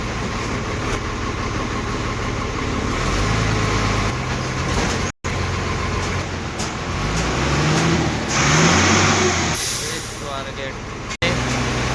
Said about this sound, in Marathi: Reach Swargate, entering Swargate bus stand.